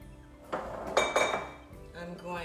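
Chopped carrot, daikon and scallions tumbling into a big aluminum pan, a short cluster of clattering metallic clinks with some background voice.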